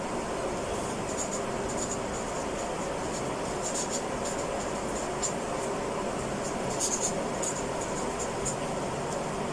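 A pen writes a label onto a paper or fabric sewing pattern for a princess-dart bustier, with faint, intermittent scratchy strokes over a quiet room hiss.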